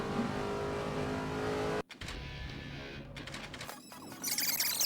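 NASCAR race car in a video game, its engine roaring loudly and steadily at first, cutting off abruptly, then rising again through shifting revs and a later surge of high whine.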